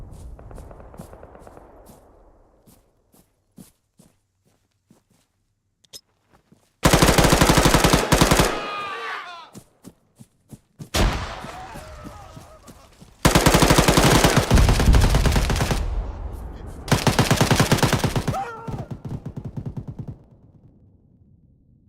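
Several long bursts of automatic gunfire in the tactical military game Arma, loud and close, broken by short pauses with quieter scattered shots in between.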